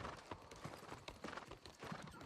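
Horse hooves clip-clop at a quick, regular trot in the video game New World Aeternum, a close, quiet rhythmic patter with no talk over it.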